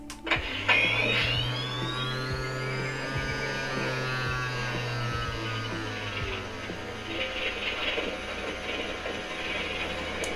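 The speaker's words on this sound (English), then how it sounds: "So you can hear the plasma stream sound effect." The plasma stream effect of a Hasbro HasLab Ghostbusters Afterlife proton pack runs with its motor whirring, giving a steady mechanical grinding hum under a rising electronic whine and crackling buzz that persists throughout.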